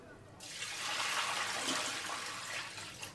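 Rushing water pours in suddenly and keeps flowing steadily while beef steak is blanched, close and fairly loud, with faint voices underneath.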